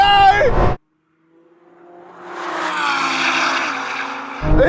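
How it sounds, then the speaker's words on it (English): A 1000hp Nissan R35 GTR accelerates in a drag race, its engine roar building from faint to a strong rising howl as it approaches, with excited voices at the start and end. "Here comes that GTR!"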